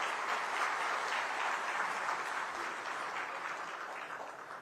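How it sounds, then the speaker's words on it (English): Steady audience applause in a convention hall during a business session, a broad wash of clapping heard from a distance that holds evenly and fades slightly toward the end. "Can we have a round of applause, please?"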